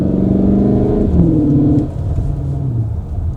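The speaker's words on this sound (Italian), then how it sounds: "avete sentito, con un kick down giù tutto l'acceleratore, il motore chiaramente è prontissimo" Cupra Terramar plug-in e-hybrid with DSG gearbox in sport mode, accelerating hard on full kick-down: a loud, sustained engine roar with rising pitch and a gear change partway through, heard from inside the cabin.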